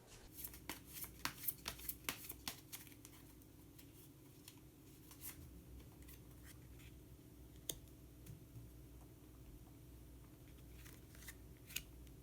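Colour cards being shuffled and drawn for a tarot-style reading, with a flurry of crisp riffling flicks early on, then quieter soft card handling and occasional single snaps, close and alone without talk.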